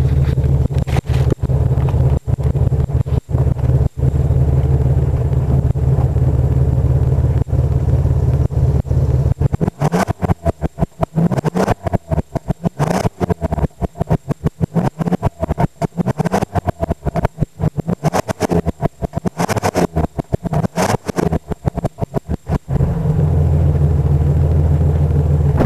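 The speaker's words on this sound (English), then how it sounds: "See what the exhaust sounds like this time around." A car engine and exhaust run at the tailpipe for about half a minute, a low steady rumble broken by heavy wind buffeting and crackle on the microphone through the middle stretch.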